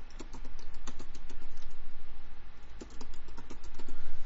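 A password is typed on a computer keyboard in a quick, even run of close keystrokes that pauses briefly and then resumes, with no one speaking and a steady low hum underneath.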